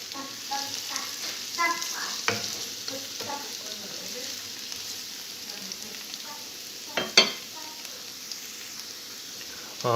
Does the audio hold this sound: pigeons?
no